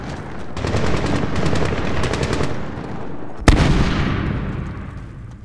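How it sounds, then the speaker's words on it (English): AK rifle fire in the Medal of Honor (2010) video game rattles in rapid bursts of sharp shots, then a single loud crack rings out and trails off into a rumbling echo. "You hear that? It is an AK fire."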